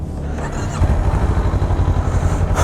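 Kawasaki Ninja 400 motorcycle engine starting up, a brief crank followed by a steady, loud, close-up idle rumble with a slight clattery edge.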